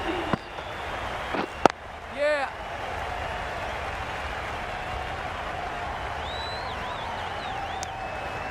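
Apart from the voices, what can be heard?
cricket crowd applauding the batter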